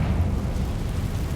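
Hogwarts Legacy Bombarda and Confringo explosion spells make a loud, continuous low rumbling blast that holds steady through the whole stretch without a break, dense and booming.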